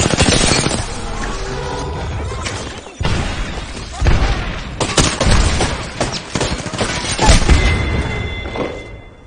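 Sustained automatic gunfire in an Apex Legends match, Season 12, with dense rapid bursts, heavy thuds and brief pauses, loud and close throughout, with scattered in-game voice chatter underneath.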